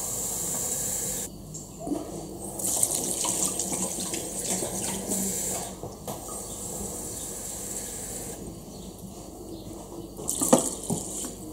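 Water runs from a kitchen tap to measure water for cooking rice, a steady hissing stream that starts and stops several times, close, with occasional clinks of a container.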